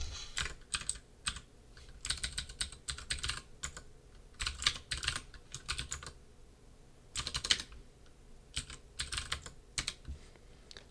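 Numbers are typed on a computer keyboard in quick, uneven bursts of close, crisp key clicks that come in clusters broken by short pauses, with no voices.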